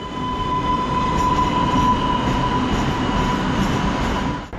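A light rail train pulls into Brookline Hills station with a steady loud rumble of wheels on track, a sustained electric whine and faint squeals, fading slightly as it stops.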